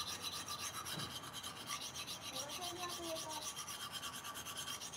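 A thick knife is sharpened against an abrasive, giving a steady, close, continuous rasping scrape for several seconds with faint tonal ringing and no talk.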